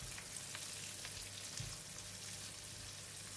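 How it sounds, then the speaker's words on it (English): Cut chilli stirs in hot oil with shallots and curry leaves for a dry okra curry, giving a soft continuous sizzle with faint spoon movements, quiet and steady throughout, no talking. "Add in the cut chilli and stir."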